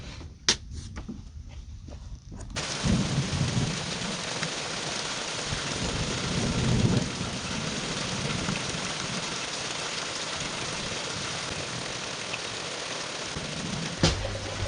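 Heavy rain pours down steadily in a rural farm setting, a loud broadband hiss that begins abruptly after a quieter start, with a faint rumble of thunder in the background and no talk.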